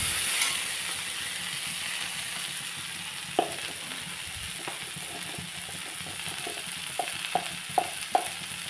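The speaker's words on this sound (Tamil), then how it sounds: "இப்போ பயறு நல்லா வதங்கியாச்சு." Long beans stir-fried in a pan, a soft steady sizzle with scattered sharp scrapes and taps of the spatula against the pan, growing more frequent toward the end, with no talk.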